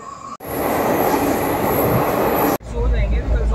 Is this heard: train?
yes